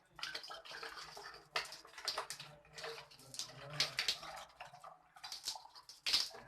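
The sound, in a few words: water filling a container with holes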